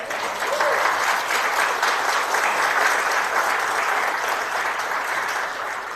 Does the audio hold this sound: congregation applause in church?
yes